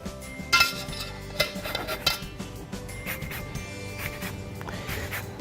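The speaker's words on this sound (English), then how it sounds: "let's take the zest of 1 lemon" Lemon zest scraped on a handheld microplane grater for lilikoi bars, heard as light rhythmic scratching with metallic clinks and taps from utensils and a bowl, close and fairly quiet throughout.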